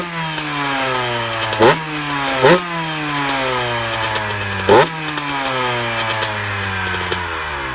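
A two-stroke dirt bike engine runs with a light, buzzy tone, holding a steady drone punctuated by three or four quick blips of the throttle, loud and close with no talking.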